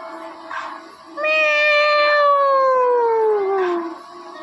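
A female cat and a tomcat seem to be fighting: one long, loud, drawn-out yowl slides downward in pitch, between shorter, fainter meows.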